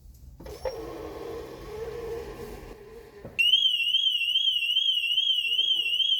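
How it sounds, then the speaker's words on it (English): A 2009 BMW 750i car alarm sounds abruptly partway through, a loud steady warbling electronic tone after a stretch of quieter garage noise and a brief clank, during a rear hub and bearing replacement. "the alarm went off when I was releasing the car"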